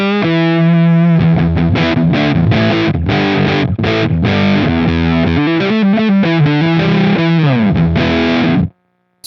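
Electric guitar played through a gated fuzz pedal dialed to a darker tone, loud and thick with chopped chords and abrupt gated cutoffs, ringing alone until a sudden stop near the end.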